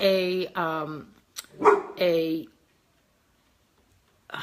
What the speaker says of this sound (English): Oh, there they go. They're gonna bark again.